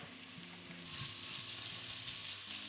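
Vegetarian lasagne filling sizzles and fries in a pan, a steady close hiss with soft bubbling, and a brief stir or shift in the pan partway through, with no talking.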